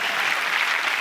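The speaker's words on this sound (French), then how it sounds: "on applaudit pour toi, cadeau" A comedy show audience claps at once, a dense, even wash of applause, close and sustained throughout without letting up.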